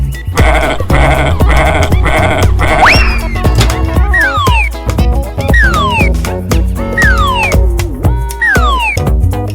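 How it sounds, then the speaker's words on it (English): A goat on a farm bleats repeatedly in loud, wavering cries, several calls spaced across the stretch over a dense, continuous backdrop of other sound, close and prominent. "goat,"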